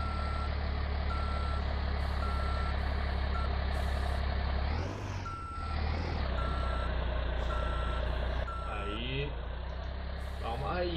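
A truck in Euro Truck Simulator 2 maneuvers in reverse, its steady reversing beeps repeating over a loud, constant engine drone, with a brief dip and rattle midway and a hiss near the end.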